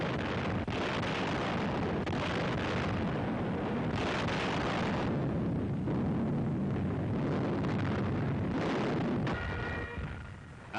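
WWII artillery units firing on German defenses in the Canadian sector near Falaise, heard as heavy repeated booms and rumbling blasts over a continuous roar of old newsreel noise, loud and dense with no talk.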